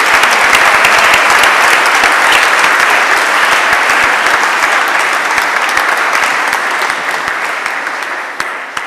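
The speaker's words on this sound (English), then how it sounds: "Please give these editors a round of applause." Loud, dense applause from an awards ceremony audience, sustained steadily throughout and tapering slightly near the end.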